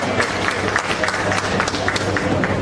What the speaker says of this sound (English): Lord, yes, man, clap her.